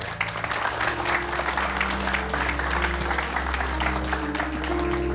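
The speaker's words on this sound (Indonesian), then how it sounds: "tepuk tangan buat Kak Vega dulu" A studio audience on a talk show claps steadily for a guest, a dense wash of applause beneath faint music tones, holding level for a few seconds.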